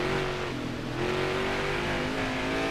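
Race car engine in NASCAR Heat 5 at Sonoma, a Next Gen stock car held at steady high revs with a droning, rising pitch, loud and continuous with no talk.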